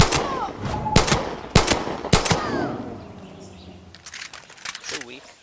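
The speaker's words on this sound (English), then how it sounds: "It's a weak gun, but I like fire." Gunfire in the video game Far Cry 6, several sharp loud shots in a burst followed by quieter game sounds, with a voice talking over parts of it.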